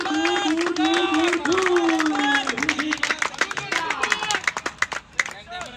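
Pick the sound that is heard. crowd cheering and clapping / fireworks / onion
crowd cheering and clapping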